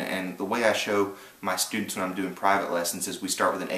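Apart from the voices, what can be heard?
None of the usual background noises is heard.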